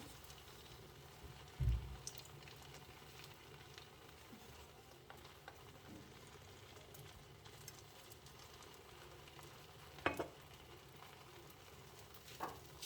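A lettuce omelet cooking in a frying pan gives a faint, steady sizzle, with a few brief clinks and knocks breaking through now and then and no talking.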